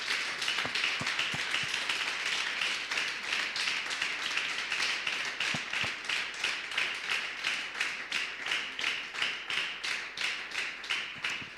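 A church congregation claps together during a worship celebration, a steady run of fairly close, rhythmic, sharp claps that carries on without a break and without voices.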